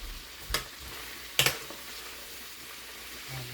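Chicken pieces frying in hot oil in a home kitchen pan, a steady low sizzle with two sharp crackling bursts partway through, close and moderately loud.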